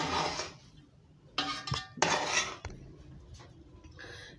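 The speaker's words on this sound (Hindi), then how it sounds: "अब हम इसको डिश आउट करते हैं" Chicken pulao served from a cooking pot, with a few clinks and scrapes of a metal spoon against the pot in short bursts, close by and moderately loud, with no talking.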